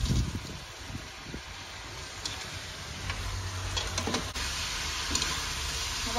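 Garlic sizzling in a hot pan as a bowl of boiling sauce is stirred in, a steady close frying hiss with occasional ticks and clinks of utensils, no talk.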